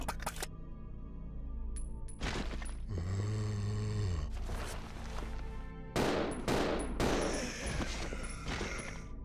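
Bursts of automatic gunfire from the survival horror game Resident Evil 0 HD Remastered, on hard difficulty, rapid loud shots in clusters over game music and ambience.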